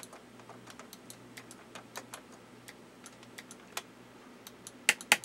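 Sharp, faint clicks from a computer mouse on an Amiga A1200 setup tap out at irregular intervals over a quiet hum, with two louder clicks near the end.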